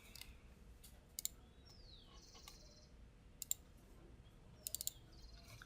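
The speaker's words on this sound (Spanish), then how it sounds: "hago un clic derecho y guardar como" A computer mouse gives sharp, quiet clicks in small clusters, one pair followed by another and then a quick triple, over a faint room hiss and some high chirping noises.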